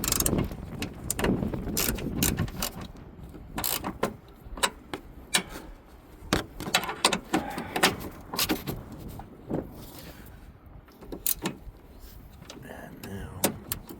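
Ratchet clicking while bolts are tightened during an alternator replacement on a 2013 Toyota RAV4 2.5, with bursts of quick clicks, clanks and scrapes of tools close by, with a person talking intermittently.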